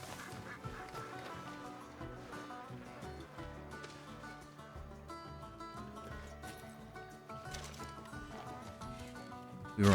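A Pekin duck quacks by a small lake in the Western video game Red Dead Redemption 2, with repeated quacks heard over a steady bed of game music and ambience.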